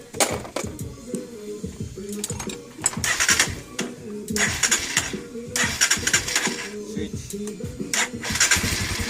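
A Royal Enfield Classic 250 motorcycle with one-click electric start is started up, its single-cylinder engine firing into an uneven, loud chugging idle that pulses repeatedly up close, with some speech in the background.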